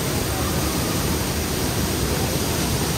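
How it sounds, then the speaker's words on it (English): Waterfall in Laguna in the Philippines, a steady, loud, dense roar of falling water close by, continuous and even throughout with no voices. "All right, let's try and get closer to the waterfall."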